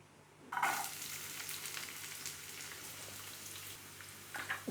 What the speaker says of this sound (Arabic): من بعد ما سخنات دابا الزيت كنزيدوها شويه البصله